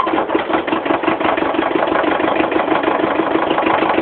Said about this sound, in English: this is the hydraulic arms. Just try it out a bit.